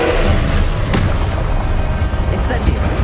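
Confringo fire spell blasts from Hogwarts Legacy, a loud rumbling explosive roar filling the whole stretch with low booming energy and a sharp crack near the start, a voice casting over the top.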